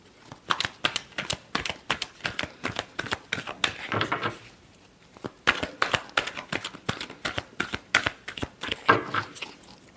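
A tarot deck is shuffled by hand in rapid bursts of crisp riffling snaps, close and steady, broken by a short pause before the flicking resumes.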